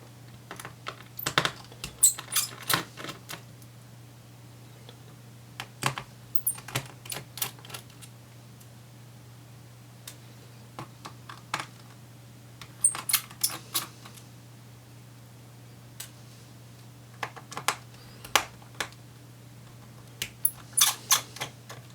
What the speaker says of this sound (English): we can then undo the various screws holding it in place